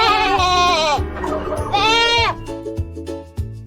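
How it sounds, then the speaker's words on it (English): A goat bleats loudly and close by in two long, quavering calls, each followed by a short lower grunt, with a few brief sounds near the end. "Let's hear how the goat sounds."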